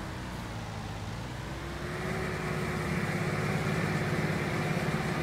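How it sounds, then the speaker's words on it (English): A CLAAS tractor engine in Farming Simulator 19 gives a steady, droning hum that swells louder just before the two-second mark and then holds, with no voices. "Or just this tractor has a different kind of sound."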